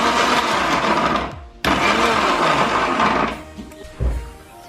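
Mixer grinder crushing ginger, green chilli and curry leaves: a loud, steady whirring grind that cuts off briefly, restarts, then winds down with a final thump.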